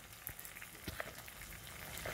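Steady, faint sizzling of blue parrotfish frying in oil for Jamaican escovitch fish, with scattered soft pops and crackles throughout.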